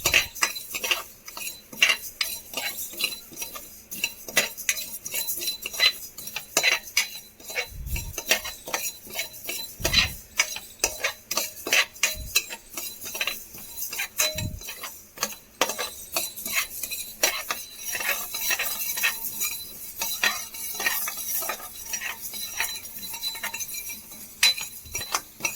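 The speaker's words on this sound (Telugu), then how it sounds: "తర్వాత ఆవాలు 4 టేబుల్ స్పూన్ వేసుకోవాలి. మంచి డ్రై రోస్ట్ చేసుకోవాలి." Mustard seeds dry roasting in a pan for a Telugu amla pickle, with a steady metal spoon scraping and stirring, light clinks and a few dull knocks against the pan, close and alone without any voices.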